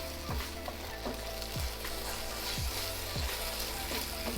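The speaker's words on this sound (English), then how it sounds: "Give it a little stir around." Seitan strips sizzle and fry steadily in a hot pan, a constant close hiss broken by regular scraping stirs of a utensil roughly every half second to a second.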